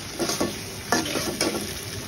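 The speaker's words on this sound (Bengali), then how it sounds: "মাছটা দিয়ে এখন আবার কষিয়ে নিচ্ছি" Snakehead fish sautéing with cauliflower and other winter vegetables in a pan gives a continuous close sizzle, broken by a few soft stirring scrapes.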